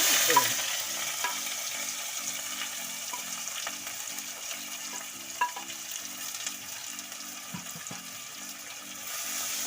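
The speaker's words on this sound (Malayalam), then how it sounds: "ഇതിൻ്റെ എല്ലാം പച്ച ചുവയൊന്ന് മാറി വരുന്നത് വരെ ഒന്ന് നമുക്ക് വഴറ്റി കൊടുക്കാം" Crushed shallots, ginger, garlic and split green chillies sauté in a pan with a continuous close sizzle and repeated stirring scrapes, plus a faint rhythmic background hum, no talking.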